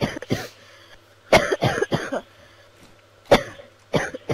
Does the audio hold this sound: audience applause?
no